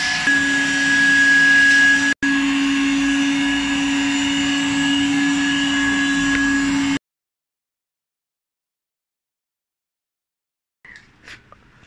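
A vacuum cleaner runs steadily with a loud, constant whine while cleaning the cord carpets of a Tata Altroz car, cutting off abruptly partway through, followed by silence and a faint clatter near the end.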